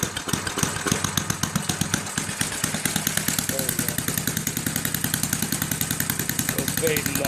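A 1979 Ariens gas snow blower engine runs steadily nearby with a rapid, even firing pulse and a rough mechanical rattle, loud and continuous throughout.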